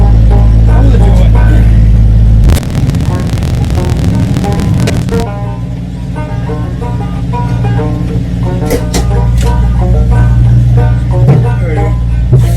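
A 1983 Jeep CJ7 idles steadily during a snowy plowing session, its low throbbing engine hum continuous and close, with a brief burst of louder mechanical noise early on before settling back to a smooth run.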